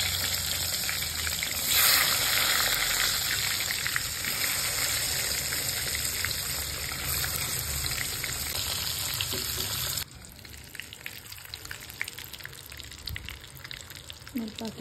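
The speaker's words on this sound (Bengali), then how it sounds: "হলুদ দিয়ে ভালো করে ফ্রাই করে নেব ডিমটা।" A boiled egg fries in hot oil with turmeric, giving a steady close sizzle and crackle that drops abruptly quieter near the end, while a voice talks at times underneath.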